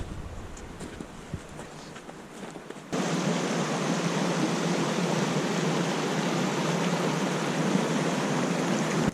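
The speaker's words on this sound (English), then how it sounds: "According to the map, Kurt's GPS, this is Rock Falls, which it's a bunch of boulders and a waterfall." Rock Falls in the Adirondacks in winter pours over boulders in a loud, steady broadband rush that cuts in abruptly after a quieter opening of about three seconds, then holds unbroken to the end.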